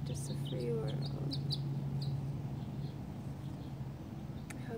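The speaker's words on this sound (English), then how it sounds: "I hope you can hear those birds." Faint bird chirps over a steady low hum and background noise, scattered high calls coming and going at a distance.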